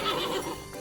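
A horse whinnies once, a short, bright neigh that rises and falls before trailing off, close and clear with nothing else around it.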